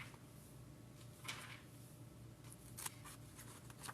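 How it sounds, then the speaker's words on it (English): Two or three quick, crisp snips of scissors cutting paper, fairly close, over a low steady background hum. "Maybe if I snip it with my scissors."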